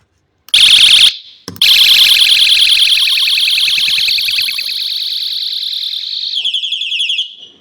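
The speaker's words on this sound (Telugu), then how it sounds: "అదైతే మన హారన్ అనమాట" A bicycle light's electronic horn, bought from Meesho, blares a loud, harsh warbling electronic tone. It stops briefly, then holds steady for several seconds before its pattern changes near the end.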